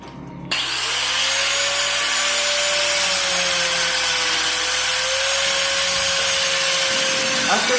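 A power tool, likely a grinder or sander, starts after a brief quiet moment and then runs steadily and loudly to clean steel plates before stick welding in a machine shop, holding a sustained whine throughout.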